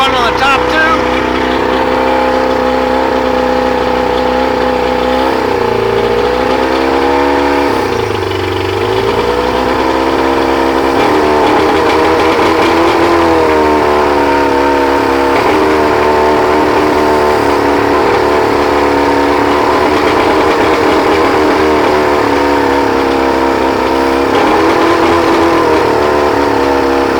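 Engine idling steadily on carburetors with a fault in the bottom carbs, a loud continuous droning hum close by that wavers in pitch, with a voice partly over it.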